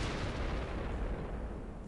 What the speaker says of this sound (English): those explosions are really loud